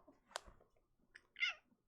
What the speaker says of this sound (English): Cat break.